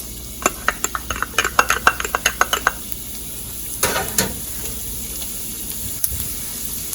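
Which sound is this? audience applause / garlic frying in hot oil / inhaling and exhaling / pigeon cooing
garlic frying in hot oil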